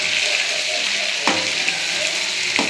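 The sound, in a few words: large fish pieces frying in a pan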